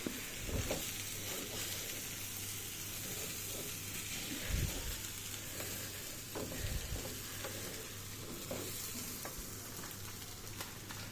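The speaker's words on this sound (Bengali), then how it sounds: "ভালো করে একটা ঘি দিয়ে ভালো করে নাড়িয়ে চাড়িয়ে নেব।" Rice being stirred with ghee in a pan for biryani: a steady sizzling hiss with soft scraping strokes of the spoon recurring every second or two, close and continuous, no talking.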